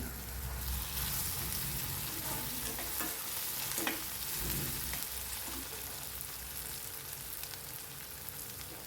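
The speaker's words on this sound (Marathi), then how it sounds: "कोथिंबीर टमाटा आणि कांदा हे तेलाव छान परतून घ्यायचे" Onion, tomato and coriander sautéing in oil, with a continuous crackling sizzle under occasional soft stirring taps, steady and fairly close.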